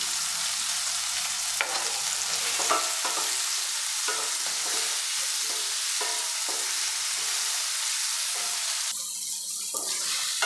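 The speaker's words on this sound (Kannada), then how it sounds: "ಈಗ ನಾನು ಶುಂಠಿನೂ ಹಾಕ್ತಾಯಿದ್ದೀನಿ ಹಾಗೆಯೇ ಬೆಳ್ಳುಳ್ಳಿನೂ ಸೇರಿಸ್ಕೊತಾ ಇದ್ದೀನಿ" Ginger and garlic fry in a pan of oil for a country-style chicken curry, giving a steady close sizzle broken by repeated scraping strokes of a spoon stirring the mixture, with no talking.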